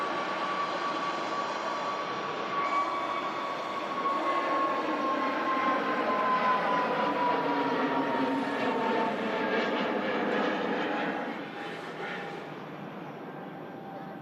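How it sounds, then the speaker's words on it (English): A Boeing Dreamliner jet on short final approach into Manchester Airport gives off a loud, steady roar with a whining tone that slowly falls in pitch, heard alone without speech. "Dreamliner from Jeddah. Short final behind this departing EasyJet."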